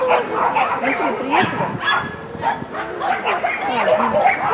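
Dog barks and yips at an agility championship, repeated short calls amid lively crowd and handler talk, with people speaking throughout.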